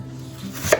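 A single knife stroke slices through an apple into a thin slice and lands with a short, crisp tap on the board, close and isolated.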